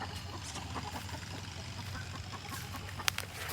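Chickens clucking in a home yard where they are fed, with faint, scattered clucks over a steady background hum and one brief sharp noise near the end.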